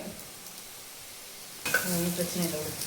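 Street-style chicken fried rice being stir-fried on high heat: quiet at first, then a loud sudden sizzle erupts and continues with stirring scrapes while a person talks over it.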